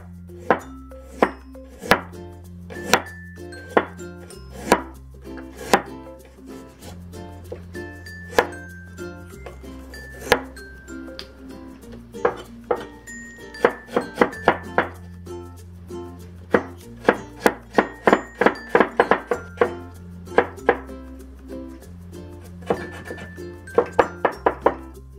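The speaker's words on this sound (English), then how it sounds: "for the rest of the ginger, I'll slice it and cut it into fine strips" Knife slicing ginger into fine strips on a cutting board, a long run of crisp, close chopping taps, sometimes steady and sometimes in quick bursts, alone with no talk.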